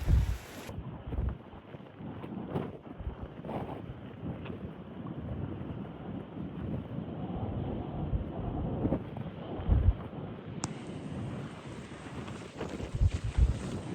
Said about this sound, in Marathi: कारण की उंचावरती असल्यामुळे हा पॉइंट प्रचंड प्रचंड जोराचा वारा आहे.